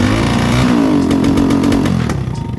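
Lifan KP Mini 300 motorcycle engine bogging under throttle, a loud close rough drone whose pitch sags and stumbles over a couple of seconds, no talk.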